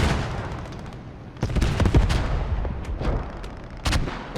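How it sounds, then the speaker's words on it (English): Mortar fire in a multiplayer war video game, heavy booms and thuds with rolling rumble at irregular intervals over continuous background battle noise, no talking. "Hear the mortar, boys?"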